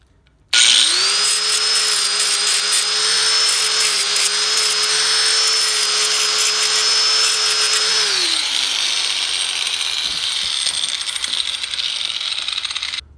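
A handheld grinder works on the plastic corners of a Honda Civic 8th gen headlight projector housing, a loud steady whine held for about eight seconds before winding down, with no talk.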